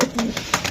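Racer pigeons coo close by in short repeated bursts, a few soft calls in under a second.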